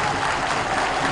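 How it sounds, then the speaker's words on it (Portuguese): A stadium crowd at a Bahia versus Vitória football match applauds as a limping player is substituted, heard as a brief, distant wash of clapping and crowd noise. "No tricolor, Camacho substitui Ramon, que sai mancando e sob aplausos"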